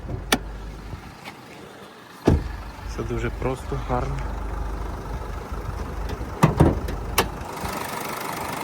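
A Nissan Qashqai+2 2.0 dCi diesel with automatic gearbox and 4WD idles steadily in the background while someone talks over it, with a few clicks and clunks nearby.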